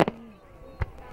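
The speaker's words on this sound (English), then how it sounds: "This is an amazing fireworks, like paradise" Fireworks on Bonfire Night: a few distant bursts, two quick bangs at the start and another later, with faint rumble between.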